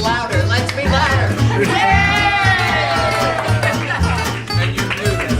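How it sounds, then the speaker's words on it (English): Theater audience cheering and shouting in a loud, dense wash of crowd noise that continues throughout, with voices blending together. "We're not the biggest crowd in the world, but we could be louder. Let's be louder."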